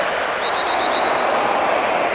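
A stadium crowd in the football video game Winning Eleven 2009 roars in a loud, continuous wash of cheering, with a faint whistle-like tone drifting through it.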